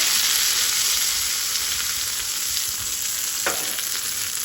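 Red chili and curry leaf tempering sizzles over chutney in a steady, bright hiss with a brief sharper crackle burst near the end; no one speaks.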